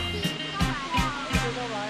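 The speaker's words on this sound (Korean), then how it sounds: "이야 물보라가 날리고 있습니다" Waterfall spray at Guangdong Grand Canyon, with the great waterfall running weakly in winter, makes a steady broadband rush beneath a person talking throughout.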